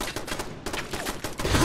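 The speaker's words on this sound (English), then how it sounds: "There's a turret in here" Rapid bursts of automatic turret fire in Fallout 4, a dense rattle of close, loud shots repeating quickly across the short span.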